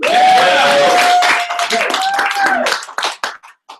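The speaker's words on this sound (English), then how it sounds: "Today, before pre-launch, clap again." An audience claps at a business overview event, loud bursts of clapping mixed with cheering voices and whoops, thinning into a few scattered claps at the end.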